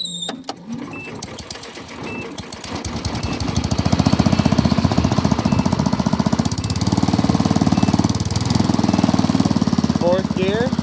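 An old tractor engine chokes, catches and keeps running with a steady rapid knocking beat close by, loud throughout and rising in intensity after a few seconds.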